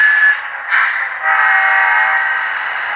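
A model train sound effect plays a train arriving with loud, sustained horn-like tones that dip briefly and then hold steady under a continuous rail rumble. No one speaks.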